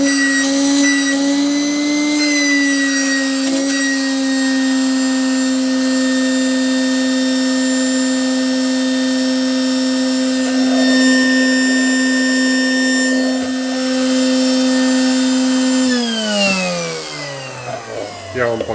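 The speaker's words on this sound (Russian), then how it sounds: "Я вам показал, как будет звучать, если не поменять подшипники." A Samsung SC20M251AWB vacuum cleaner motor with worn bearings runs under repair, a loud, steady high whine that holds for many seconds, then winds down with falling pitch near the end.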